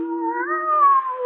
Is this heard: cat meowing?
yes